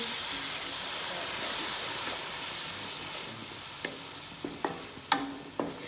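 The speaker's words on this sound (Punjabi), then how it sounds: "ਮੀਡੀਅਮ ਫਲੇਮ ਤੇ ਮਹਿਕਾ ਮਾਰਦੇ ਹੋਏ ਮਸਾਲੇ ਭੁੰਜ ਰਹੇ ਹਨ" Spices sizzling and crackling in a hot pan over a medium flame, a steady frying hiss with a few sharp clinks of stirring toward the end.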